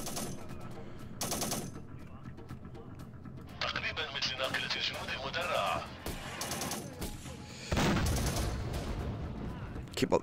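Bursts of machine-gun and rifle fire crackle in the real-time strategy game Syrian Warfare: Return to Palmyra, several loud rattling volleys with rumbling battle noise, mixed with game voices.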